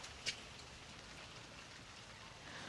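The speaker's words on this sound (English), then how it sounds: "It's raining." Faint, steady rain falls outdoors in a front yard, a soft continuous hiss with one brief louder drip near the start and no talk.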